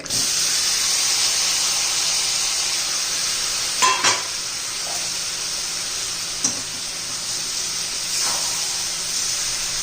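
Raw banana slices stirred and fried in a pan, a steady close sizzle and hiss running throughout, with a few brief scraping clicks of the stirring spoon.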